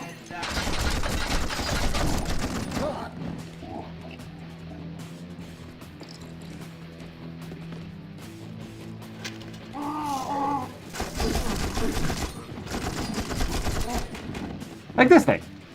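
Guns firing in the shooter game You Are Empty: loud bursts of rapid gunfire open the scene and return later after a quieter stretch of mechanical clicks, with someone talking in between.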